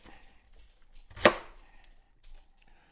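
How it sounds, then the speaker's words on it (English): A single sharp knife chop through a head of cabbage with the loose leaves peeled off, quartering it: one crisp, fairly close crunch standing out against near silence, with only faint handling noise around it. "I'm going to quarter the cabbage"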